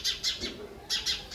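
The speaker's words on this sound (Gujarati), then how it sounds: "એ સામે બેઠી જુઓ કાબરો," Mynas calling nearby: a few bright, rasping chirps in two quick bursts with a short pause between, clear and close with no other sound.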